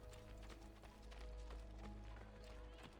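Hooves pound in a fast gallop in Assassin's Creed Brotherhood, a close, rhythmic clip-clop over a heavy low rumble that holds steady for several seconds.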